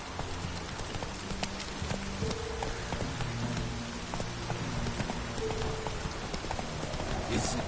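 Roach, the horse in The Witcher 3: Wild Hunt, gallops with quick rhythmic hoofbeats over a steady patter of rain, with a voice speaking briefly over the scene.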